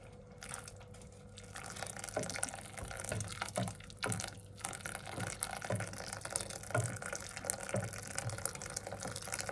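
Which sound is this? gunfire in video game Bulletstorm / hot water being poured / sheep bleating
hot water being poured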